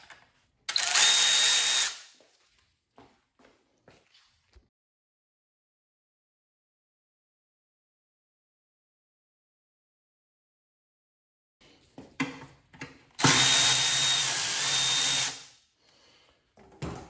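A power tool zipping out 10mm bolts from a Mustang transmission's bottom pan, two loud close whirring bursts of about a second or two each, separated by quiet with faint clicks.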